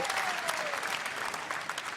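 Squash crowd applauding after a long rally, steady dense clapping sustained throughout, loud and close with no pauses.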